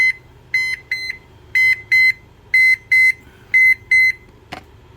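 A digital thermometer on a Pit Barrel Cooker sounds its low-temperature alarm, a series of sharp electronic beeps in quick pairs and triplets repeating at close range, followed by a brief click, with no voices.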